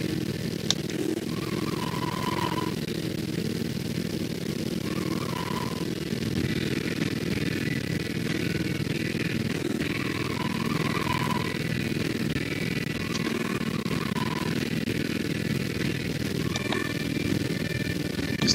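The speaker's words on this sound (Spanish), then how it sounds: "más chévere para manejar la moto" A motorcycle engine in a racing video game hums steadily and faintly, with repeated brief tonal whines rising over a constant mechanical bed and no talking.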